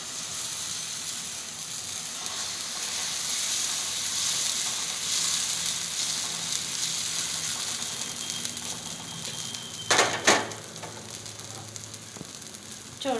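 An egg frying in oil in a pan gives off a steady, bright sizzle that rises and then settles, with a few sharp spatters and crackles near the end.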